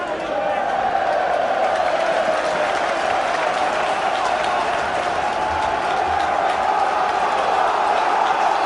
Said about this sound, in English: Frank Sinclair just geeing up the Turf Moor crowd as if they need it.